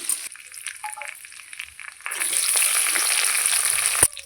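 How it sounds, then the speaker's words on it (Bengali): Cashews and raisins frying in a pan for Gobindobhog rice pulao, a steady close sizzle that grows louder and denser halfway through, with faint stirring clinks and no talk. "এবার কাজু কিশমিশটা ভালো করে ভেজে নেব"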